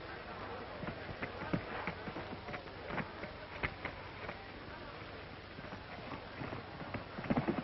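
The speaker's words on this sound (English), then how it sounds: "Mr. Tom Ford and his horse Champion" Horse hooves clip-clopping at a steady trotting pace, somewhat distant and muffled, with a faint background murmur.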